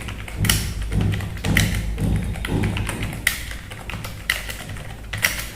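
Typing on a computer keyboard, a run of close, crisp key taps in irregular bursts with a few heavier thumps, no voices.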